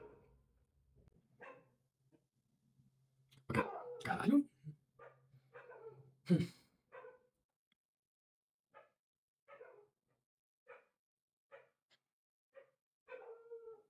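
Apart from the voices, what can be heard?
dog barking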